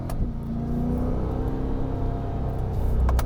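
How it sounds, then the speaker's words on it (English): A 2022 Chevrolet Corvette C8 Z51 with the mid-mounted engine drones steadily from inside while driving on a wet road, a constant low rumble that swells slightly near the end. "the engine's just making a lot of noise."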